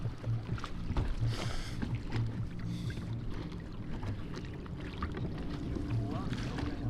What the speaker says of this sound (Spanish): Mucho viento hoy.